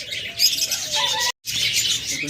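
Cockatiels chirp and call continuously at close range, bright overlapping tweets and a short whistled note, broken by a brief moment of silence.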